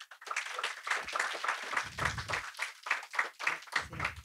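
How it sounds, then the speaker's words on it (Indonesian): An audience at a literary event applauds film director Riri Riza, a moderately quiet burst of scattered hand claps with individual slaps standing out, alone and uneven in rhythm. "Tepuk tangan buat Riri Riza."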